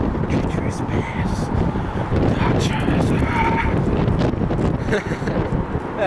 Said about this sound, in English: Yeah, damn, it's windy.